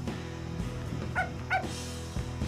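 A dog in the video game Silent Hill: Origins gives two quick, faint yips over a steady low in-game drone, with no talking.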